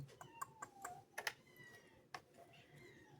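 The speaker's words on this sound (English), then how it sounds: "Hear noises. That's my kittens." Faint scattered clicks, rustles and small thumps with a few soft high mews, kittens shifting around in their crates nearby in a quiet room.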